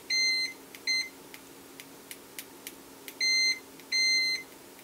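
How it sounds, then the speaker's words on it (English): Low-cost digital multimeter beeper, a series of short, high, electronic beeps in irregular bursts with faint clicks between, close and fairly quiet. "it turns on the little beeper thing"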